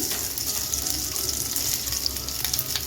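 Okra fries in oil over medium heat, a constant close sizzle with faint stirring clicks and scrapes underneath, no voices.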